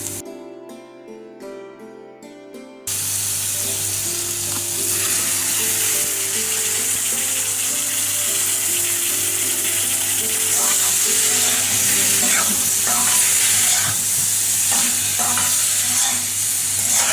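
Chopped tomatoes fry and are stirred in a pan for paneer masala, giving a steady, loud, close sizzle with scraping stir sounds after a brief quiet opening.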